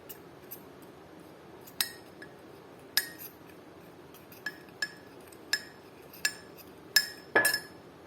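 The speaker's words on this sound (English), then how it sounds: "So now we have to whisk it with a fork." A fork strikes the sides of a bowl while whisking cupcake batter, giving about a dozen sharp, bright clinks at irregular intervals over a quiet background, ending in a quick cluster.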